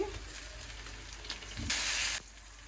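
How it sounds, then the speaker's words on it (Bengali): Chopped tomato going into a hot pan: a low, steady frying hiss suddenly swells into a loud, sharp sizzle for about half a second, then dies back down. "এখন দেবো টমেটো কুচি"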